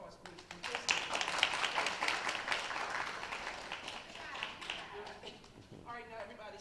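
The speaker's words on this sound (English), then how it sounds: "give Mr. Tillman another round of applause, please" Audience applause for Mr. Tillman at a school gathering, a dense wash of many hands clapping that holds steady for several seconds, then thins out toward the end.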